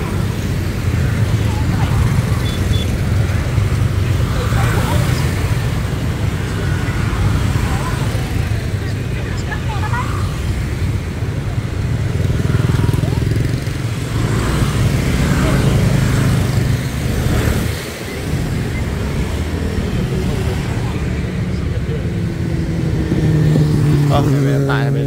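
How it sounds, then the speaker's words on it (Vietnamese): Dense street traffic in Saigon, motorbikes and cars streaming past with continuous engine drone and occasional revs, close and steady for the whole stretch, while a voice talks over it. "lượng xe cộ nó đi lại hay đông á"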